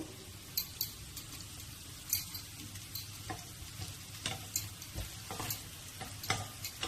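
Ginger, garlic, green chillies and curry leaves fry in a pan with a soft, steady sizzle, punctuated by a scattering of light scraping stirs and clinks from a spoon, quiet and close, with no voices.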